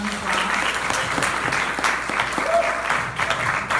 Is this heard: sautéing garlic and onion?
no